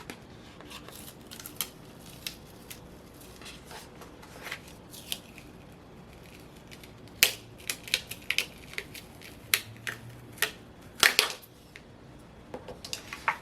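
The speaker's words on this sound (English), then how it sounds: "now I'm going to peel off the stencil so that we can see the final design" A stencil peeled off a freshly painted design makes close, quiet crinkles and sharp ticking snaps at irregular intervals, with several louder pops later on and no talking.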